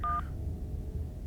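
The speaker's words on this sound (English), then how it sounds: "The phone rings, trying Kanika." Two short telephone dialing tones beep at the start inside the Scarlet Hollow video game, then a low, steady hum fills the rest of the moment with no speech.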